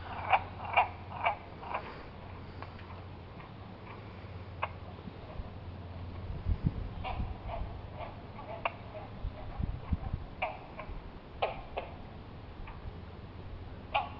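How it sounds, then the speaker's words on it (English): Frogs croak outdoors in a steady chorus of short, repeated calls, moderately near and fairly quiet, with no talking. "Hey, froggies."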